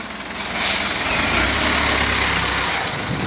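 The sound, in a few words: truck engine maneuvering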